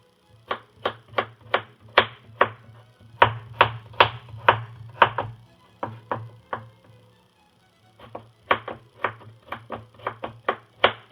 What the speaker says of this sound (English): It's not fun to cut the onion